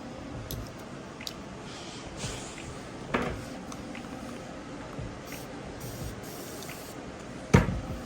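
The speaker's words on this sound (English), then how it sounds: "I always respray the brush when I'm going to another leg." A spray bottle mists a grooming brush while a matted dog is being groomed, giving a few short, soft hissing bursts over a quiet room, with the clearest spritz near the end.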